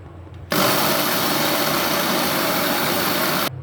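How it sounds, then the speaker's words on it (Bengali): A blender grinds black rice in one loud, steady whirring burst of about three seconds, starting and stopping abruptly, close and alone. "প্রথমে এগুলোকে ব্লেন্ড করে নেব"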